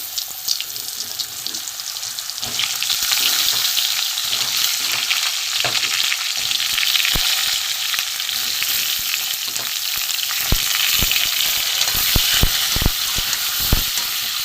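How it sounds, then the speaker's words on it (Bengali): Pointed gourd (potol) pieces fry in hot oil, a strong continuous sizzle close by, with sharp clacks of a spatula stirring toward the end and no voices. "যা তেল আছে আমি পটলগুলো একটু ভেজে নেব"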